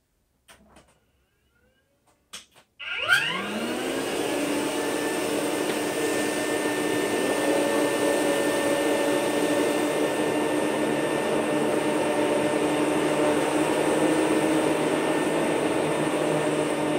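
A Rainbow E2 Platinum vacuum cleaner starts up and runs steadily over carpet with flour worked in underneath, a loud, constant motor whine with a brush-roll drone holding unchanged for about fourteen seconds after a few faint knocks.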